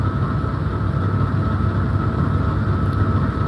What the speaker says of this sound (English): the locomotives are really low idling right now